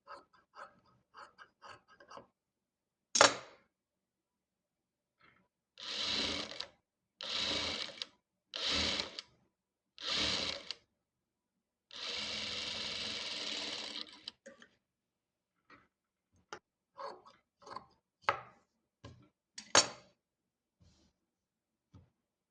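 Domestic sewing machine stitching a folded chudithar hem, with several short bursts of fast whirring stitching and one longer run, separated by quiet pauses and small clicks of fabric handling, close and clear.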